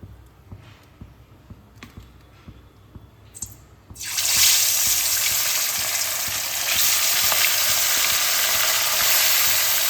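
Sea fish goes into hot mustard oil in a wok after a few light clicks, and a sudden loud, dense sizzle of frying starts and continues steadily to the end. No talk.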